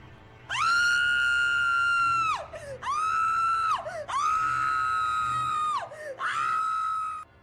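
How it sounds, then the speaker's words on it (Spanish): A woman screams in horror in the woods, a string of four long, piercing, sustained shrieks with short breaks between them, loud and close over a faint low background. "gritó horrorizada."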